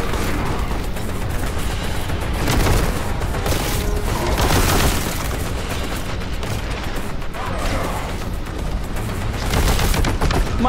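Bolter gunfire in Warhammer 40k: Boltgun, dense rapid bursts of heavy shots and booming impacts, loud and close, firing almost continuously with short pauses.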